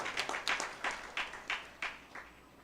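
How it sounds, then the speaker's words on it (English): A gathering at a Ramayan satsang claps in a sparse, uneven patter, a handful of distinct claps landing roughly every third of a second, moderately faint and without voices. "give them a wonderful round of applause"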